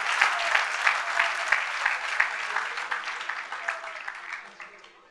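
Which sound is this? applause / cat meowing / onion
applause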